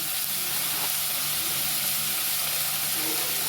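Chicken pieces fry in oil for a home-style Tulu chicken gravy, a loud continuous hiss and sizzle that stays steady and close throughout.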